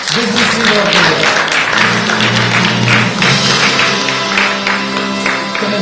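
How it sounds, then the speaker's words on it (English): Audience applause at a charity awards ceremony, the Global Giving Awards, fills the room loudly and steadily, with music or voices mixed in underneath. "If you like the icon, the design, please do give it a generous round of applause."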